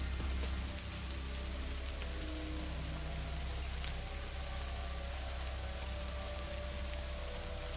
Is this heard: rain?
yes